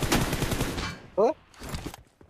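In the mobile game BGMI, a short burst of gunfire ending in a headshot cracks out sharply after and between stretches of talk.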